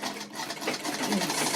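A treadle Singer sewing machine stitches a quilted rug with a rapid, rhythmic mechanical chatter up close, building slightly in loudness over a second and a half with no talking.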